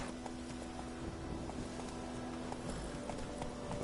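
Roach the horse trots in Witcher 3, hooves clip-clopping in a steady rhythm over a soft wind-like background, moderately faint and without speech.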